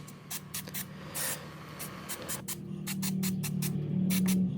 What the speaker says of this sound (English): To make sure this hardware doesn't freeze up, I'm spraying fluid film.